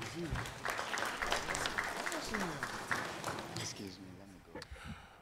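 Audience applause welcomes the CEO of Stanbic Bank to the stage, a steady crowd clapping heard mixed with overlapping voices and chatter, fading toward the end.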